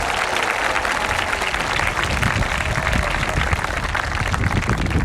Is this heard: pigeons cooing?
no